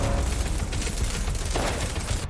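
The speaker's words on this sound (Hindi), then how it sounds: "अलीगढ़ में भी खूब आतिशबाजी की गई" Dense firecracker bursts during Diwali celebrations in Aligarh, India, a continuous loud crackle of overlapping pops and bangs with no pause, close by and filling the whole stretch.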